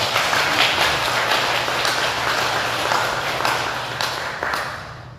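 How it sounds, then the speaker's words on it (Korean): Sustained applause from a temple congregation at a Buddhist dharma service, many hands clapping steadily and fairly loud for several seconds before gradually thinning out. "주지 스님들 건강하시고 항상 법체 강량하시라고 큰 감사의 박수 한번 보내주시기 바랍니다."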